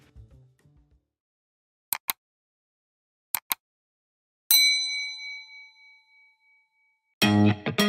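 A bright notification bell dings once and rings out with a long shimmering decay, preceded by a few sharp metallic ticks in near silence and followed by a louder clattering burst at the end.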